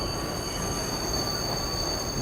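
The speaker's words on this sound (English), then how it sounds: "The screech of the train pulling into the next station split the air, drowning out the rhythm of its wheels on the tracks" Train wheels screeching as the train pulls into a station, a sustained high-pitched metallic squeal with two steady tones over a continuous rumbling roar, loud and close throughout.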